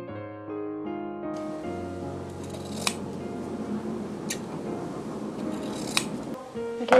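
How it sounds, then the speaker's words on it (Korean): Scissors snip through bias tape fabric while a training jacket is sewn, a few crisp, close cuts heard alone against a quiet room tone. "이 길이만큼 바이어스를 잘라줍니다"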